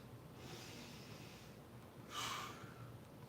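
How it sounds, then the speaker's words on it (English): Deep breathing after a parkour and weight workout at home: two long, airy breaths, one slower and softer, then a louder, sharper one, close and alone with no talk. "Take a few nice deep breaths."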